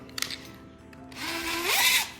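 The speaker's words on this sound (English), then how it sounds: "we got the drill going." A power drill whirs up, its pitch rising sharply as the motor speeds, loud and close after a brief quieter start.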